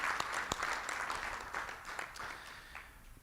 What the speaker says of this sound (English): you just missed your round of applause